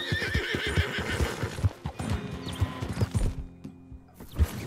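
Horse whinnying and clopping hooves in Red Dead Redemption 2, a loud neigh up front, then steady hoofbeats with a short, louder neigh near the end.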